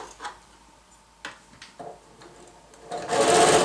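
A sewing machine stitching a fabric face mask made from t-shirt material, with faint intermittent handling sounds before a loud, close burst of continuous machine stitching at the end.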